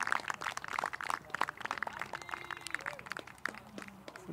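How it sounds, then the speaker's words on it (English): Spectator applause at a European model glider championship flyoff in Szeged, Hungary, a sparse, moderately distant patter of claps running throughout beneath talking voices. "So it's not the first time we are hearing an applause here."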